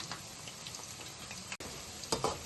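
Chicken pieces for dragon chicken frying in a pan over a stove flame, a constant crackling sizzle with a brief dropout and a few sharper pops near the end, with no speech.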